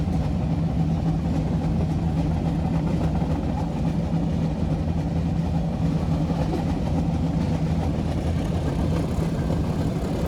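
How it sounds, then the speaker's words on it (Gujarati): A meter gauge train runs from Junagadh to Sasan Gir, heard from the coach just behind the engine: a steady, loud engine drone with rolling rumble throughout, no talking. "આપણે એન્જિનના પાછળના ડબ્બામાં મુસાફરી કરતા હોવાથી તમને થોડો અવાજ વધુ આવશે"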